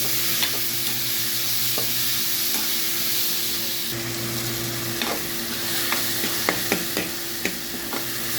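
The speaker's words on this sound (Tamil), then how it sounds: "வெங்காயம் நல்லா வதங்கிட்டு தக்காளி சேர்த்துருக்காங்க. நல்லா கிண்டி விடுங்க." Onion and tomato sizzle steadily in hot oil for an okra buttermilk curry, with a constant frying hiss under scattered close clinks and scrapes from a stirring spoon against the pan, and no talk.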